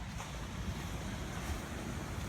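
Sea waves wash onto a beach in Portugal in a broad, steady surf rush mixed with wind buffeting on the microphone, continuous and fairly close, with no voices.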